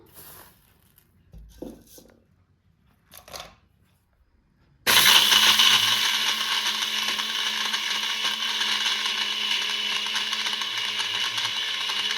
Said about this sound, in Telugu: మనము ఇవి మిక్సీ పట్టుకున్నామండి అన్నీ కలిపి